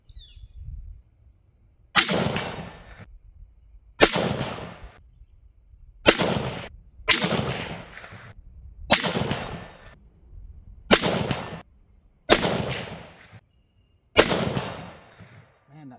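Eight sharp, loud rifle shots from a bolt-action .308 firing AAC-loaded 168 grain Sierra bullets, spaced roughly two seconds apart, each followed by a short rolling echo, with no talking.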